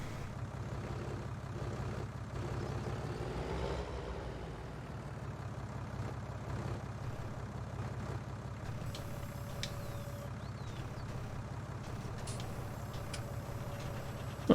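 Farming Simulator 19 small tractor hooked to a windrower, a steady low engine drone running continuously with mechanical whine and occasional game beeps layered on top.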